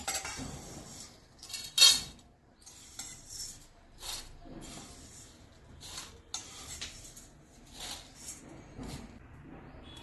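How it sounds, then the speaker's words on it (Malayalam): Clinks and scrapes of a utensil against a pan as roasted oats are moved onto a plate, with a sharp clatter early on, then scattered lighter scraping and tapping. "ഇനി തീ ഓഫ് ചെയ്ത് ഒരു പ്ലേറ്റിലേക്ക് മാറ്റാം."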